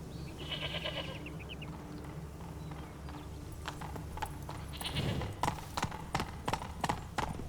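Geralt's horse Roach clip-clopping in The Witcher 3: a faint ambient bed with chirping, then a run of sharp, evenly spaced hoof strikes growing louder toward the end.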